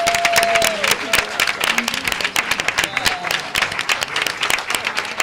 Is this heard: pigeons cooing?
no